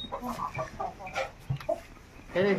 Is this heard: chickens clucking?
yes